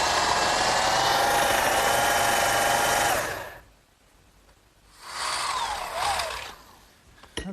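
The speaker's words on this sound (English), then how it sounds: "what I've just done is drilled a hole in this metal bracket" A power drill bores a hole in a metal bracket, a steady high whine for about three seconds, then a pause and a second shorter burst, close and loud with no talk.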